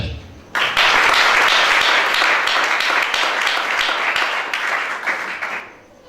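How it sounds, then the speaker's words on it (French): A church congregation bursts into loud, sustained applause during a sermon, a dense wash of clapping that starts abruptly, holds steady for several seconds, then tapers off. "Acclame ça."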